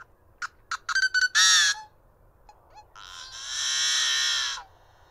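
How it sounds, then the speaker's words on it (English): Yellow-headed blackbird singing, opening with a rapid run of sharp clicking notes and a short harsh burst, then after a pause a long, loud, grating buzz-like screech, recorded up close with no voices. "So that was a yellow-headed blackbird."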